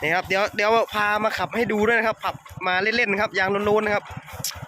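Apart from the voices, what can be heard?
None of the usual background noises is heard.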